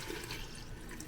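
Crab broth pours through a strainer into a bowl in a brief, soft, continuous liquid wash, close and low in level.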